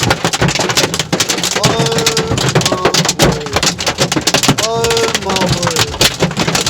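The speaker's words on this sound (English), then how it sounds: "I was stuck in a freak hailstorm" A freak hailstorm pelts a car during a night drive, a loud, dense and unbroken roar of impacts on the body and glass, with a voice exclaiming over it.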